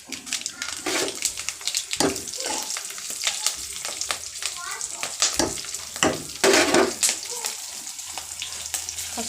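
Green chillies and dried red chillies sizzle loudly in a golden cumin tempering of hot oil, with bursts of spitting and repeated stirring scrapes in an Indian kitchen making brinjal-tomato chutney.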